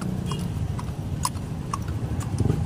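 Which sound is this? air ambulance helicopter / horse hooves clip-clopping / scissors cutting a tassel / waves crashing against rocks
horse hooves clip-clopping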